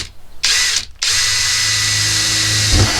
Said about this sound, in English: I've drilled a hole in the van.